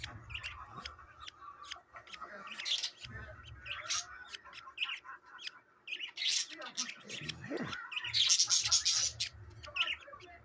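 Young budgies in an aviary, some only 16 days old, squawk and chirp in an agitated, continuous chorus of sharp clicks and shrill calls, close by, with a person speaking softly at times.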